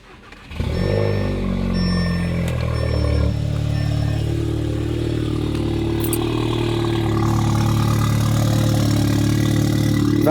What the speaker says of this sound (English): we're going to take the S3 and get a cold start on her